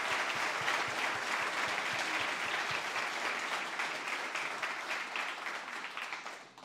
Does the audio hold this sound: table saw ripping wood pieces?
no